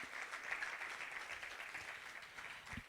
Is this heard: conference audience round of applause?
yes